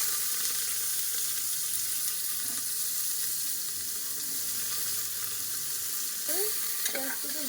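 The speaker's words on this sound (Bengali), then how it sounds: "তেল হয়ে গেছে, দিয়ে দেবো পেঁয়াজ কুচি।" Chopped onion fries in hot oil with a loud, constant hissing sizzle that fills the whole stretch, broken only by a faint brief chirp near the end.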